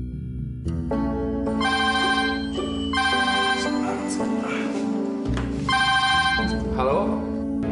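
A telephone rings in repeated electronic bursts over a steady background tone, fairly loud and close.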